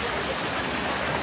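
A small waterfall on a river during a family outing, its falling water giving a steady, close rushing hiss with no break for the whole short stretch.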